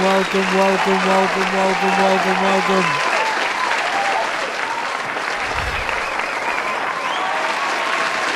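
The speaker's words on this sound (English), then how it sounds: "Let's clap it up. Keep it going." An audience claps steadily for a hip-hop podcast episode, dense applause throughout while a voice talks over it and a tonal sound fades out early on.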